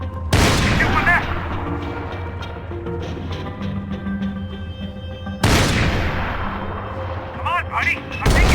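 Gunfire in the video game Max Payne 3: loud, close bursts of shots cracking out in clusters, a heavy volley at the start and another midway, with shouted voices over a rumbling combat backdrop.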